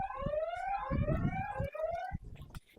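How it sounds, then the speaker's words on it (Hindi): Close, loud electronic warbling siren from a motion-detector security camera guarding onion storage, rising and falling in rapid sweeps, with handling knocks and rustles underneath before it cuts off near the end. "जैसे देख पा रहे हो मैं पास में आ रहा हूँ तो ये सायरन कर रहा है"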